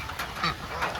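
A few quick, nasal quacks from a group of penned farm ducks, close and moderately loud, in a brief burst over a low background hum.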